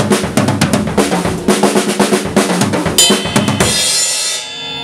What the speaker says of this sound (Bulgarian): Това са едни и същи удари, ударени по различни барабани.